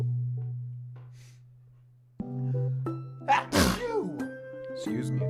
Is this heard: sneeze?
yes